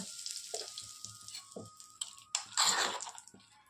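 Asafoetida frying in a spoonful of oil in a pan for a onion thecha, a steady close sizzle with soft stirring clicks that swells into a louder, brighter burst of spitting toward the end.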